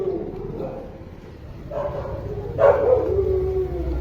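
A dog howls and yips in short rising cries over a steady low rumble of background noise.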